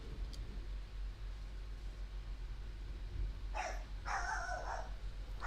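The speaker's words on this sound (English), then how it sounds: "Doggo's barking." A dog barks a few times in the distance, faint sharp bursts over a low background hum with no talk.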